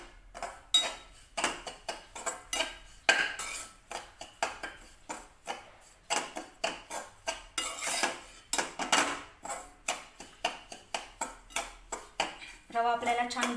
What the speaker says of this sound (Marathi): रवा आपल्याला छान गुलाबीसर भाजून घ्यायचा आहे.